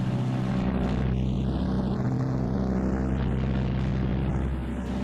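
Piston engines of a Martin B-26 Marauder bomber drone loudly and evenly during the climb after takeoff, a constant throbbing roar heard from inside the airplane.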